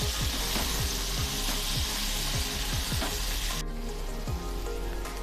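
Drumstick pods being stirred into spices and salt in a hot pan for a dry village-style vegetable dish, with a close, loud sizzle and repeated rhythmic scrapes of a spatula that stop abruptly near the end.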